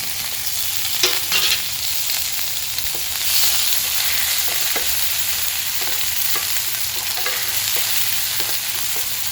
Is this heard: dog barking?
no